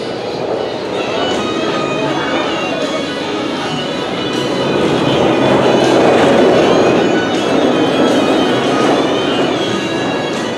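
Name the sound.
roller coaster train passing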